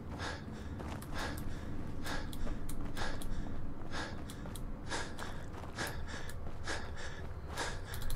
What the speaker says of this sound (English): God, this guy likes breathing.